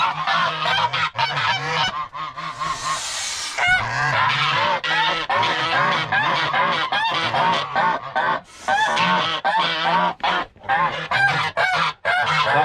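Geese honking loudly and continuously at close range, a dense overlapping chorus of harsh calls that keeps up throughout with barely a break.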